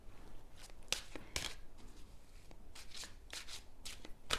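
A deck of angel oracle cards is shuffled by hand in several quick riffling bursts separated by short pauses, close and soft in a quiet room with no talking.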